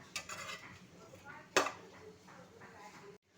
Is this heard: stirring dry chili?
yes